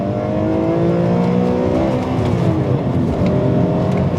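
A BMW M3 E46 straight-six engine revs loudly and continuously nearby, its pitch rising and falling through the gears.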